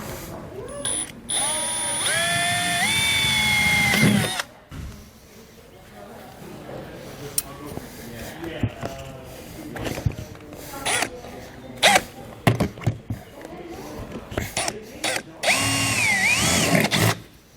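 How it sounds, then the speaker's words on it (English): Power drill boring out holes in a metal flange for a roof vent cover on a 2019 Ford E-Series cutaway: a whining motor in repeated bursts that rise in pitch, separated by pauses, with a person talking in between. "So I'll just simply drill all of these out."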